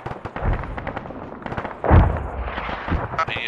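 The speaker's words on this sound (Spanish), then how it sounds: "Ahí está, donde haga explotar la granada" A grenade explodes in a nighttime milsim shooter game, a loud close boom near the middle among scattered gunfire pops and game noise.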